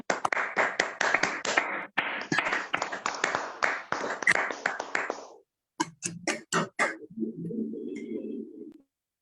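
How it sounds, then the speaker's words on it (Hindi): An audience breaks into loud, dense applause that stops suddenly, followed by a few scattered individual claps and a brief murmur. "जोरदार तालियां"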